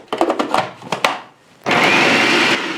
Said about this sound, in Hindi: हरा मसाला, सब्ज मसाले को हमने चॉप कर लिया